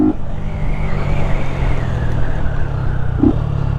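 A Yamaha FZ 250 motorcycle running without its air filter drones loudly and steadily up close while riding, its low engine note holding through the whole stretch with no talk.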